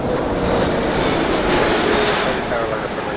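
Airliner landing on runway 06 right at Toronto Pearson airport, a loud, continuous broadband engine roar that holds steady from start to finish, with no pauses in the sound.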